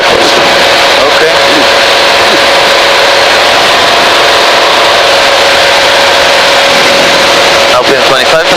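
Cessna 185 light aircraft engine in cruise flight at about 2,500 feet, a loud, continuous cabin drone with a steady tone and no break, with people talking over it.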